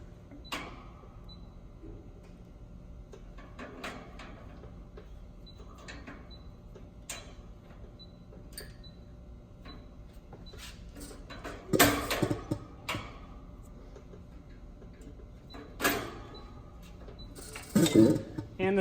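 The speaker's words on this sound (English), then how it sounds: "take a sturdy screwdriver, insert, remove the first belt" Belts being pried off an industrial air compressor with a sturdy screwdriver: sparse faint metallic ticks and clicks over a low hum, then a few louder clanks and scrapes near the end.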